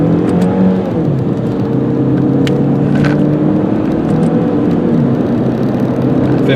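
A 2000 Volkswagen Passat in auto-stick mode accelerates hard, its engine whirring and climbing in pitch through the gears from inside the cabin, with a steady, loud drone throughout.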